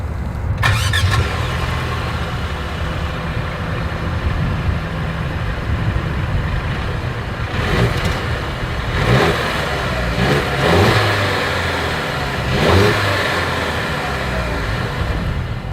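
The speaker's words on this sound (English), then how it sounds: "Here is that exhaust clip." A 2023 Mercedes-Benz GLC 300 Coupe engine revs repeatedly, sharp bursts of exhaust rising over a steady rumbling idle, close and loud.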